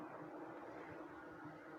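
Electric fan running in a room, a faint, steady whir and hum of moving air with no change in level and no talking.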